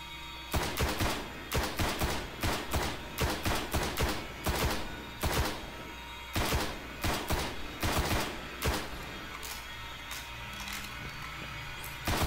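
Rapid bursts of gunfire in the Destiny beta crack out in repeated volleys, loud and close, then break off, leaving a quieter low rumble.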